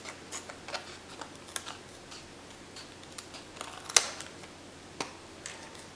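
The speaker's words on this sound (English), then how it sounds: "Let's use my other pair of scissors here." Scissors snipping excess paper off vintage slide specimen cards for a junk journal, a series of sparse, sharp clicks and cuts at close range with quiet pauses between, one snip noticeably louder than the rest.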